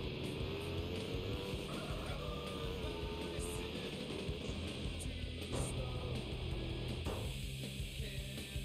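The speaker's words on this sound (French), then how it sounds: "J'y retourne en moto" A motorcycle engine drones steadily in GTA San Andreas Definitive Edition, revs rising and falling as it rides, fairly faint with a shift in tone near the end.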